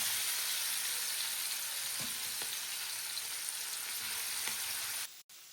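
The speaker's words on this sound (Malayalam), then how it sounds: "ഇനി ഇത് നെയ്യിലിട്ടിട്ട് പൊരിച്ചെടുക്കണം." Small mussels in a mixed coating fry in ghee, a faint, even hiss of frying with a few soft ticks, ending in a brief cutoff near the close.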